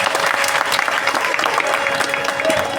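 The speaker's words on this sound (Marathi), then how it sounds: "तिच्यासाठी जोरदार टाळ्या वाजवा" A crowd at a bharud folk stage performance claps steadily throughout, dense and sustained applause filling the space with no break.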